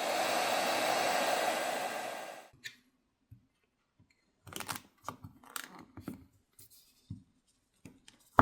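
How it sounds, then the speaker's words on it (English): A hairdryer blows steadily for about two seconds while warming the plastic backplate of an Honor 600 phone, then cuts off, followed by quiet scattered clicks and taps of handling and tools. "I prefer to use a hairdryer"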